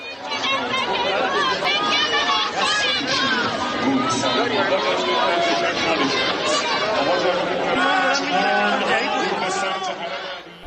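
Large crowd in Iran gathered around President Pezeshkian, a loud, continuous babble of many voices shouting and chattering close by throughout.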